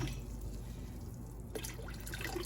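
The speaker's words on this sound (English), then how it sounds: "Just gonna add enough water to fully cover those by a good 2 inches." Water running from a tap into a pot of jars being readied for home canning strawberry jam, a steady close trickle and splash with a brief clink partway through.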